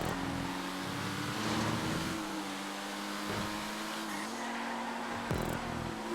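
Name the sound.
car engine racing in GTA 5 video game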